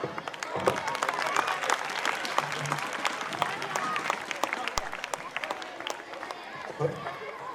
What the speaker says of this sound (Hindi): तालियां, बहुत ही बेहतरीन अंदाज में बच्चों ने एक्ट पेश किया।